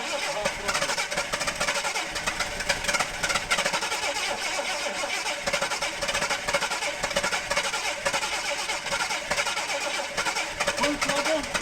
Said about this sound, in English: giving it too much, trying to rev her up too hard